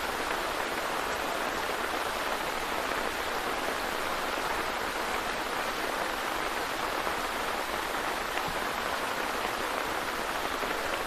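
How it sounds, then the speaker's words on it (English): Rain pours steadily over an outdoor NTFL men's Premier League football match between Southern Districts and Palmerston, a dense, even hiss that holds at the same level from start to finish with no voices over it. "Rain continuing to fall here."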